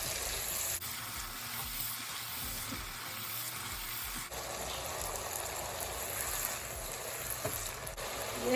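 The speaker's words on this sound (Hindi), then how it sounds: "2 अदद हरी मिर्चें कटी हुई हैं, ये भी इसमें डालेंगे और इसे अच्छे से इसकी भुनाई कर लेंगे।" Chopped green chillies and salt sizzle and fry in a pan with a steady, close crackling hiss, broken by faint stirring scrapes.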